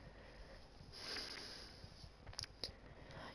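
A person sniffs a few times, quiet and close, the breaths brief and airy against a faint background hiss.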